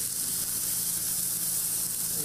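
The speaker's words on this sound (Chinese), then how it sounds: "大块厚实的鸡排放在煎台上，先将皮的内面煎熟到酥脆，再翻面慢慢煎" A thick chicken cutlet sizzles steadily on a hot griddle, a continuous close frying hiss with no talking over it.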